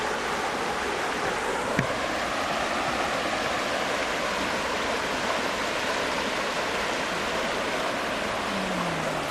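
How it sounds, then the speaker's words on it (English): A stream flows in a steady, full rush of water heard up close, a continuous broadband wash that holds at the same level throughout, with no voices. "Finally, we've got the flowing water."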